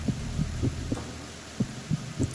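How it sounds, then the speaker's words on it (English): A steady, muffled heartbeat thumps from the Metal Gear Solid 2 video game, pulsing in a regular rhythm of single beats over a constant low electronic hum. "See, the heartbeat does sound kind of weird."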